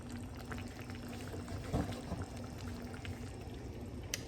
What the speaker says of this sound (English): This is gonna boil for at least maybe 30 minutes.